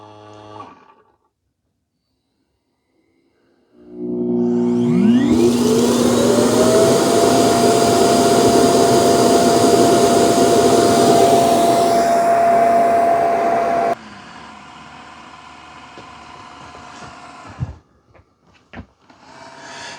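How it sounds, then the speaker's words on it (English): A Eufy C28 robot vacuum and mop spins up its brush roller with a rising whine. The whine settles into a loud steady drone for several seconds, then drops to a quieter hum before a few clicks. "Sounds like it's spinning the brush roller."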